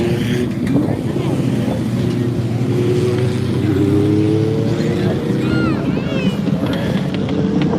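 Race cars circle a speedway oval during a Trick or Treat feature, their engines droning steadily and loudly throughout, with pitch sweeping up and down as the cars pass and a commentator talking over them.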